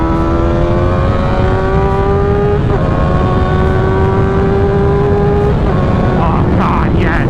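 A 600cc sport motorcycle engine drones steadily while riding, its pitch climbing and then dropping at gear changes under constant loud wind roar.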